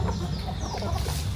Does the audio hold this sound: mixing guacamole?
no